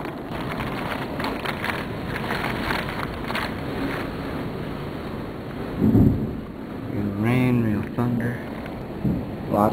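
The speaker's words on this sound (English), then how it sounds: "You can see the sheets of rain coming." A thunderstorm with heavy rain and strong wind roars steadily outdoors, with gusts thumping against the microphone and a person speaking briefly over the noise near the end.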